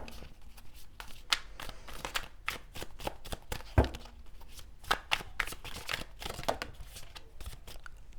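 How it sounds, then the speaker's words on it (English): Tarot cards being shuffled and pulled by hand, a series of crisp riffling and flicking bursts with sharp card snaps, close and fairly quiet with no talk over them. "let me pull a couple more cards."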